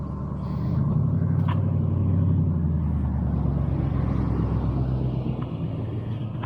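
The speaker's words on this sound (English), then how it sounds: "Here comes a truck, Lisa." A truck rumbles past cyclists on a small-town street in Grafton, West Virginia, its low engine drone swelling and staying loud and close for several seconds before easing off, with no voices.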